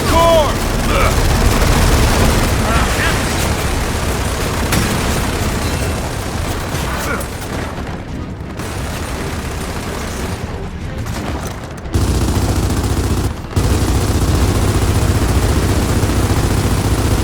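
Dense gunfire and explosions fill a Gears of War 4 campaign battle as players shoot at a core, with sustained bursts, booms and pops rolling loudly and near. A voice occasionally speaks over the din.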